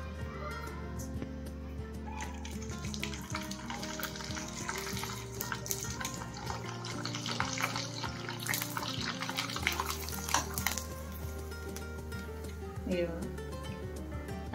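Homemade sun-dried potato papad frying in hot oil gives a dense, continuous crackling hiss throughout, with a voice and steady tonal background sound running underneath.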